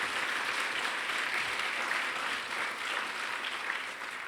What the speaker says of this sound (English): Yes, they deserve a round of applause.